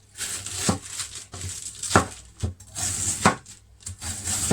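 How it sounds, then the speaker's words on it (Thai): A blade chops banana shoots into small pieces, making sharp, irregular thuds and scraping cuts repeated about every half second, close and clear. "หั่นมาเรื่อยๆนะครับ เพื่อหาให้ละเอียดนะครับหั่นให้หมดเลยนะครับ"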